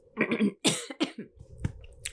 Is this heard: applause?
no